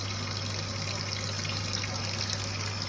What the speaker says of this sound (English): So I will wash this pot out as well.